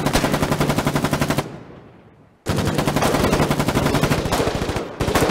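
Machine gun fire in the online war game Foxhole: long, rapid automatic bursts rattle loudly and close, broken by a pause of about a second before the firing resumes, with short extra bursts near the end.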